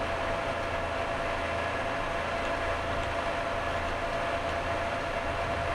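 A simulated train engine in Train Simulator 2017, running steadily toward Starcross on the approach to a 75 mph limit, gives a continuous loud rumbling drone with a hissing wash over it. No voices are heard.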